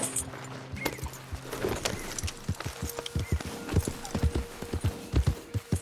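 A horse trots in Red Dead Redemption 2, its hooves beating out a steady, rhythmic clip-clop with faint jangling tack. A soft tonal background plays underneath.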